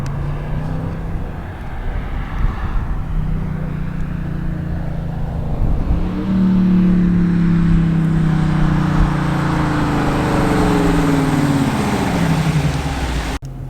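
A 2020 Dodge Challenger R/T with the 5.7L HEMI engine idles loudly up close, then revs with a rising, throaty roar that holds at a high pitch before dropping back off.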